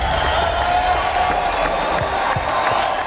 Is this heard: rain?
no